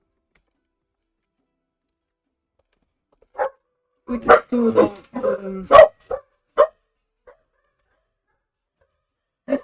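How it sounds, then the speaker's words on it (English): Dogs barking indoors nearby, a short burst of several loud barks in quick succession with scattered single barks before and after, in otherwise quiet surroundings. "Sorry about the dogs barking."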